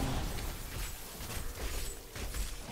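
Heavenly rocks spell crashing down in Diablo 3: Reaper of Souls, a Crusader's attack, a continuous crunching, rumbling barrage of impacts and shattering debris, fairly loud, with no voices.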